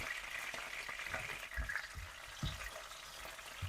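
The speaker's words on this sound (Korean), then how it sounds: "어느 정도 볶았으면 방울토마토까지 같이 볶아줍니다" Cherry tomatoes stir-fry with garlic and peperoncino in oil in a pan, giving a steady soft sizzle with scattered low thumps and scrapes from stirring, fairly quiet and without talk.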